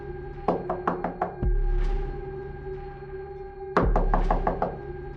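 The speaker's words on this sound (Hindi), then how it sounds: "दस्तक जारी रहती है" Slow knocks on a door for a horror story, arriving in two bursts of roughly five raps each, with a heavy thud and a pause between the bursts.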